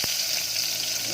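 Aromatics sautéing in hot oil for fish paksiw, ginger among them, make a loud, steady broadband sizzle that fills the whole moment, with a brief clack at the start and no voices.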